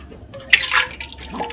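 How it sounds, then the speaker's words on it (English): A dog drinks water in a kitchen: a brief burst of wet lapping and dripping, a few quick splashy laps close by over a second or so. "That's my dog drinking water."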